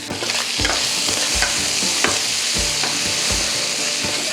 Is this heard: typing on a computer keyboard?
no